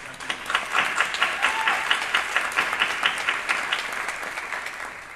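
Audience applause at a panel discussion on literacy, a steady wash of many hands clapping for about five seconds with a lively, dense rhythm and no voices over it.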